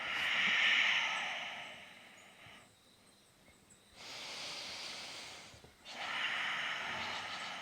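Deep breathing during a yoga flow: a long, hissing breath drawn in through the nose, a quiet pause, then two more slow airy breaths, close and soft with no voice over them.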